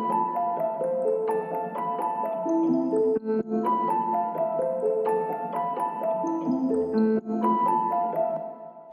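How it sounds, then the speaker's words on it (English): Piano melody from an electronic track, a repeating phrase of plucked notes over sustained chords, steady and clear with no voices. "it's the piano melody that you can hear right here."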